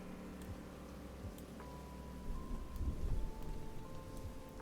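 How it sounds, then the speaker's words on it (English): Simulated thunderstorm sound effect with steady rain hiss and a low rumbling thunder swell near the end, fairly faint overall. "Let's maybe turn up the thunderstorm."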